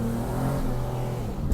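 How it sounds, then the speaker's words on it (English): A V6 car engine revs in the Caribbean, giving a close, steady, throaty drone that holds for about a second and a half with no talk over it. "It's a V6, take a look."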